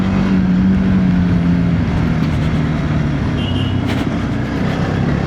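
A TVS Apache RTX 300 adventure motorcycle on the road gives a steady, loud engine drone with a low humming tone and constant wind rush, close to the rider, with no voices.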